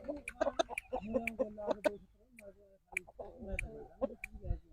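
A rooster clucks in short, sharp bursts close by, mixed with a voice talking nearby.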